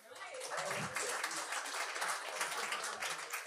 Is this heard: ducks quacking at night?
no